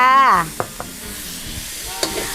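Minced pork being stir-fried with soy sauce, bean sprouts and tofu in a pan: a brief voice at the start, then a low sizzle with a few light scrapes and clinks of the spatula.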